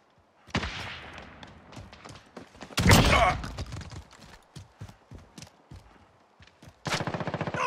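Gunfire in a Call of Duty: Modern Warfare multiplayer match, with sharp rapid shots in bursts, a heavy loud blast in the middle and a final fast automatic burst, with no voices over it.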